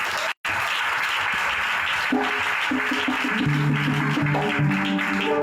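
A church congregation claps and cheers in acclamation, a continuous wash of applause with organ or keyboard chords entering partway through.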